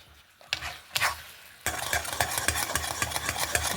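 Ragi halwa is stirred with ghee in a pan, starting with a few separate scrapes, then turning into a continuous, close, rhythmic scraping and sizzle.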